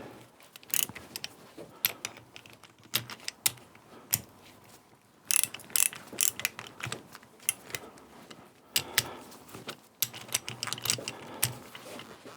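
A ratchet clicks in short bursts while bolts are tightened on the differential of a David Brown 990 Selectamatic tractor, close and fairly quiet, with irregular pauses between runs of clicks.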